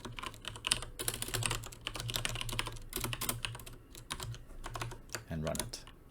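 Rapid clicking of keys as code is typed on a computer keyboard, bursts of taps in uneven rhythm, close and fairly quiet, with a voice speaking at moments underneath.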